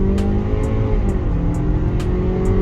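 A 2019 Toyota RAV4 2.0 with automatic gearbox accelerates hard from a standstill toward 100 km/h, a steady engine drone heard from inside the cabin with rising pitch and faint periodic ticks, no talking.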